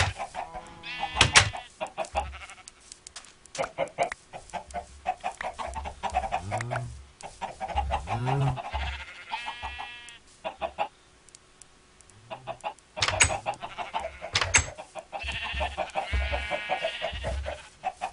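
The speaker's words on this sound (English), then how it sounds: "I might just have enough to feed some chickens" Chickens cluck in the game Minecraft, several short clucks scattered across the clip and mixed with other farm sounds, moderately quiet overall.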